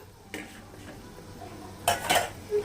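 Chillies tipped into a pan of chicken fried rice, two brief bursts of metal scraping and stirring clatter with a soft sizzle underneath, fairly close and with no talk.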